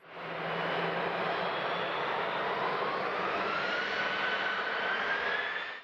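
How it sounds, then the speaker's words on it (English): Jet airliner engines, such as a Trident or Boeing 747, in a steady loud broadband roar with a slowly rising whine, sustained for several seconds near an airport runway among skyscrapers in Hong Kong. "The sound of jet engines wasn't an interruption."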